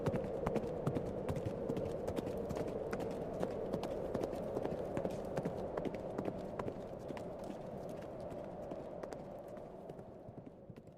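A horse gallops steadily for several seconds with rapid, rhythmic clip-clop hoofbeats over a constant low rumble, with no voices.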